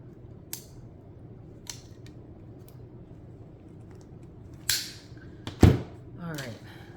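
Scissors cutting the back off a wreath kit attachment, heard as a few sharp snips and clicks with one louder crunching cut near the end, close and clear against a quiet room.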